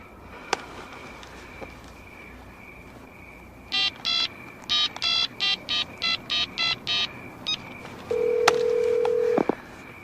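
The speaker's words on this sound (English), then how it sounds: "Dial him up." A telephone being dialed: a string of about a dozen short, evenly spaced touch-tone beeps in quick bursts, followed by a steady held tone before it cuts off, clear over quiet room hiss.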